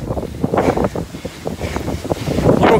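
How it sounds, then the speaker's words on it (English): Strong wind at the ocean buffets the microphone in loud, uneven gusts, with the faint wash of surf beneath and no voices. "It's windy."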